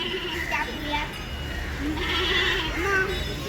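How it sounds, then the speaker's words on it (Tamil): Goats bleat at a temple in Colombo, wavering cries rising and falling over a noisy outdoor background with people talking and children's voices nearby. "இது மாடு இல்லை, இது ஆடு."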